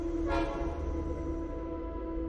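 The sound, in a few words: distant train whistle, slow and mournful, in a horror story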